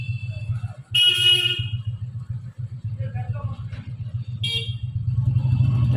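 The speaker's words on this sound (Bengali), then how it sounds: "কাকাদের ওখান থেকেও গাড়ি চলে এসছে" A car engine rumbles steadily nearby as a horn honks twice, with faint voices in the background.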